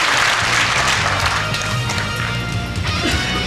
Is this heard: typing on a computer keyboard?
no